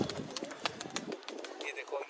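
A painted pigeon is released to fly, with soft cooing and brief wing flutters heard close by while someone talks over it.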